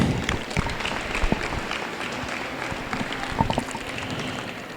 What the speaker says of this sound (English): Let's give our showmanship winners in the Market Steer Contest another big round of applause,